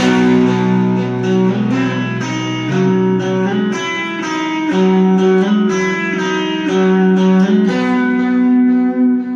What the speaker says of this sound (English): So the whole thing sounds like this, the opening lick.